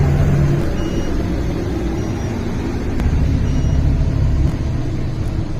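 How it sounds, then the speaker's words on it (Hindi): Loaded goods trucks stand lined up, giving a continuous low engine rumble that stays loud and steady throughout, with no speech. "लोड गाड़ी सब लाइन रे अछंती"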